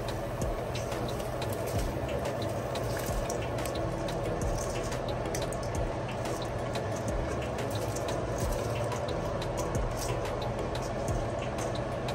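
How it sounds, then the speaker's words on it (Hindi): Rice poured into 4.5 cups of water in a cooking pot, a steady bubbling, dripping wash of water sound that holds evenly close by throughout with no talking. "अब मैं चावल डालने लगी हूँ।"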